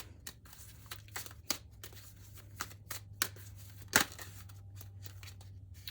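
A tarot deck is shuffled quietly and close by, a run of soft papery riffles and sharper snaps in uneven bursts over a low steady hum.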